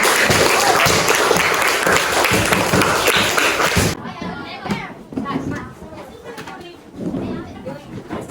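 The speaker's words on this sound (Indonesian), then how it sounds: "Mari kita kasih tepukan yang penuh semangat." Classroom applause as students clap for a group presentation, a dense, loud burst of many hands that stops abruptly after about four seconds, followed by scattered children's voices and light taps.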